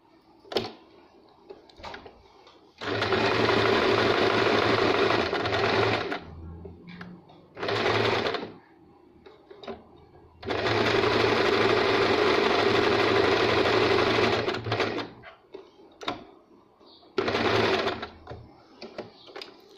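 Sewing machine stitching a buttonhole runs in three long loud bursts and a few short ones, with quiet pauses between and a voice talking in the gaps.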